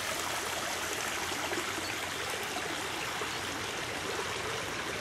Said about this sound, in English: Plenty of water around here.